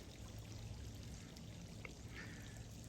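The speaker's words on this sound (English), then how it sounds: "But Sue will certainly take advantage of a good splash pad opportunity, which is what she's doing now." Steady water spray from a pet's splash pad pours and trickles in a continuous close wash, with no one talking.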